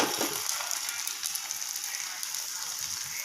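Butter-coated pizza base frying on a tawa pan with a little refined oil, a steady close, even sizzle with faint crackles throughout.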